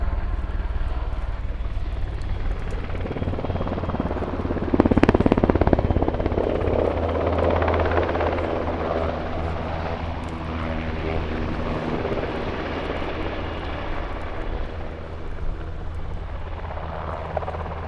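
A German Army NH-90 tactical transport helicopter flies past at an air show, a loud sustained rotor and turbine roar that swells as it comes nearer around the middle and then holds steady, with no voices.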